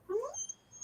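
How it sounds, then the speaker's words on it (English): A plott hound puppy whines in a single short, high, rising cry, fairly close and clear, with a thin tonal hiss lingering behind it. "Who's the baby I hear? That's a dog."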